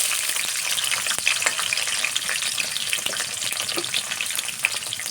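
Dried tengra fish (shutki) fries in a pan with a loud, continuous hiss and crackle, close by and unbroken, with faint stirring movements and no talking.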